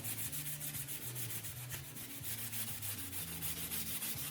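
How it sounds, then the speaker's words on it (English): Rhythmic scratchy rubbing, steady back-and-forth strokes of steel wool under light pressure over painted metal on a model aircraft wing, close and continuous. "Just very light, gentle pressure, allowing the steel wool to do all of the work."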